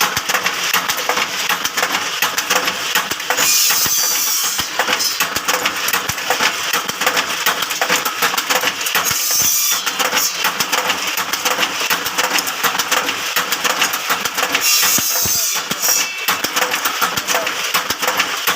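A bamboo skewer-making machine running continuously, a dense, busy mechanical clatter and rattle with steady loudness throughout and brief quieter dips, no speech over it.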